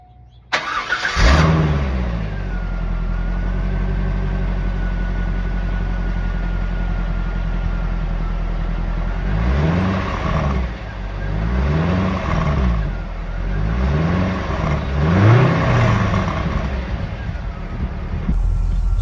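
A 2001 Corvette C5 with stock exhaust starts and settles into a smooth, quiet idle, then gives several short revs that swell and fall back, heard close with no talk.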